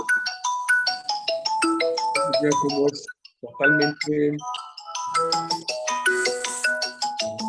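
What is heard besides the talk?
mobile phone ringtone ringing during a lecture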